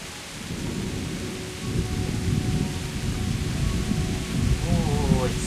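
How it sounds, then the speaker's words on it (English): Thunderstorm with rain in the medieval video game Kingdom Come: Deliverance: a rolling rumble of thunder building over a steady wash of rain, loud and close, with a voice speaking briefly near the end. "Ooh, it's thundering."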